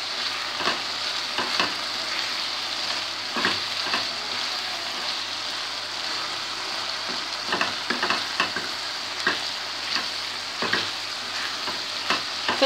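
Sauce with parsley and olives sizzling steadily in a pan, a constant close frying hiss punctuated by light, irregular scraping and tapping from stirring.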